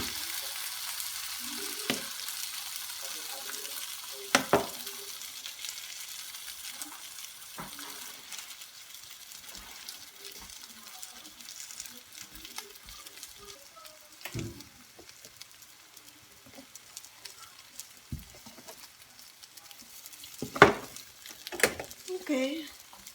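A giniling omelette sizzles quietly in a pan, a soft continuous frying crackle broken by occasional louder clinks and stirring noises, with a voice speaking at times.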